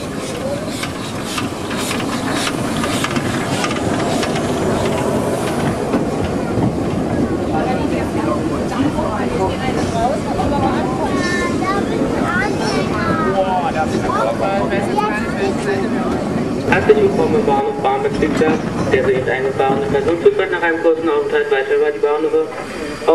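A Henschel Riesa steam locomotive rumbles and hisses along the track for a long stretch, chuffing and clanking steadily, with voices talking faintly in the background.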